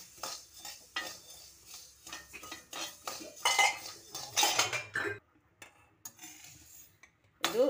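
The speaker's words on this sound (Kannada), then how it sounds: "ಫಸ್ಟು ಇದನ್ನು ನಾವು ಬಾಣಲೆಯಲ್ಲಿ ಹುರ್ಕೋಬೇಕು." Curry leaves, coriander seeds and other spices dry-roasted in a pan for a spice powder, heard as a steady clatter of a spoon scraping and stirring against the metal pan, close and without talk.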